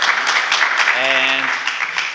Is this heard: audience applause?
yes